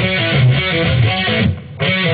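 A distorted electric guitar plays a palm-muted interlude riff, giving chugging, tight low notes in a steady pattern with a short gap near the end.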